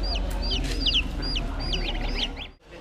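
Chickens cluck repeatedly at a busy poultry bazaar, several birds close by giving short rising calls in quick succession over a steady low background din.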